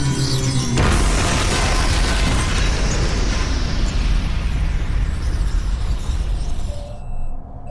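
A loud, sudden explosion from an overloaded glue gun in a science-fiction radio drama, a heavy boom and shattering rumble that fills the space and slowly decays over several seconds before cutting off.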